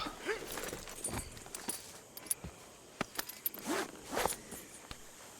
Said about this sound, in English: Remove saddle. Let me get this off, girl.